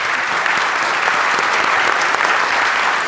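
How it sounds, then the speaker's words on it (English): Sustained audience applause for a conference panel, dense and steady clapping from a crowd at close range, continuous throughout with no speech over it. "please join me in giving my panelists a round of applause"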